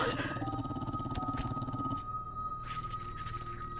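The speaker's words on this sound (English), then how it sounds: "Why is that dog so strong?" A dog growls and barks inside a video game, its harsh, loud vocal bursts pulsing through the first half over game sounds and a steady tone, then easing into a quieter, rougher stretch.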